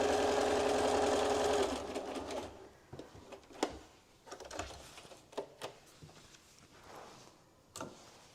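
A sewing machine whirs steadily for a couple of seconds and then stops. Soft pigeon coos and light scattered taps follow in a quiet room.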